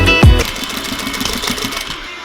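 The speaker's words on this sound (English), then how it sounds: "when you sew along the crotch seam" A sewing machine runs along the crotch seam of a jumpsuit, its loud, rapid stitching whir close and continuous for a couple of seconds before easing off.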